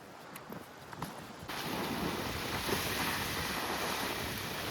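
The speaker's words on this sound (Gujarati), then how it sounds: "ફક્ત દરિયાના સમુદ્રનો અવાજ અને એકદમ શાંતિ" Sea waves washing onto the shore of a quiet island at night, a steady close rush of surf and wind that swells up after a quieter opening and then holds constant, with no other noise around.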